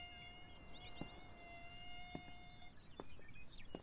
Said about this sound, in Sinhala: හරිම නෝටි මදුරුවේ.